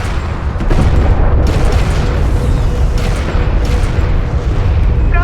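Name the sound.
strike craft exploding in video game Homeworld Deserts of Kharak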